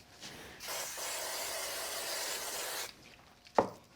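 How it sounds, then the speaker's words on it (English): Spray glue hissing from an aerosol can over a recessed card panel in a card-making project, one steady burst of about two seconds, close and alone, then a short sharp tap. "A little bit of spray glue."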